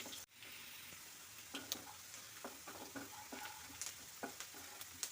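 Onions fry in a pan with a quiet, steady sizzle while a spoon stirs them, giving scattered soft scrapes and clicks, faint overall and without talk.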